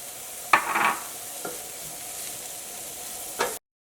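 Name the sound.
stirring sautéed vegetables and capsicum in a pan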